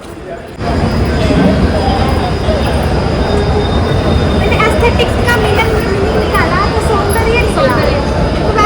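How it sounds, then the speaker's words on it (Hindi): A Delhi metro train rumbles loudly into a station, wheels grinding and squealing on the rails over a steady heavy roar; no one speaks. "थोड़ी वेट करने के बाद हमारी मेट्रो आ गई है"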